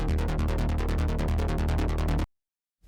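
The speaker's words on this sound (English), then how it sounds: "but this is a rolling bass line." A rolling hard techno bass line from a synth built on sawtooth shapes, with rapid, even pulses driving continuously at loud volume before cutting off abruptly into silence.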